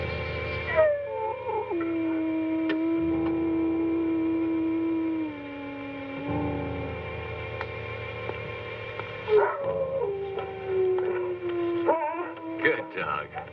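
A dog whimpers and howls in long, wavering, tonal cries that slide up and down, loud and close, with a pause in the middle before another rising, drawn-out howl resumes.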